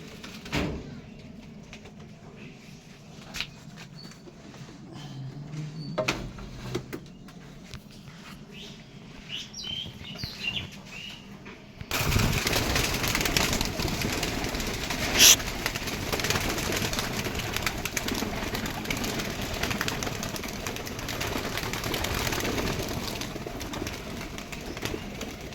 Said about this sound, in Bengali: তো চলো বন্ধুরা, কথা না বাড়িয়ে পায়রাগুলো ছেড়ে দিই